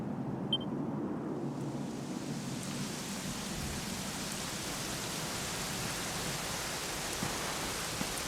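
Rain in the video game Dragon Quest XI, a steady hiss of falling rain with a low rumble beneath, constant and even throughout.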